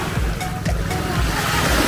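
Strong ocean waves surge continuously at a beach in the Britania Islands, Surigao del Sur, in the late afternoon, a loud, rough wash of surf with heavy wind buffeting the microphone.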